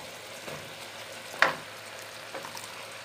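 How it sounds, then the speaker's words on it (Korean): Fried tofu and sliced vegetables stir-fry in a pan over moderate heat with a steady, soft sizzle. One sharp utensil scrape lands near the middle, with lighter stirring clatter around it. "두부를 한번 살짝 이렇게 간을 베게 해놓고선 썰어놓은 야채를 이렇게 넣어주고 볶아줄게요"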